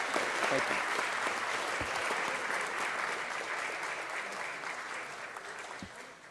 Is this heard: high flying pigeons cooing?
no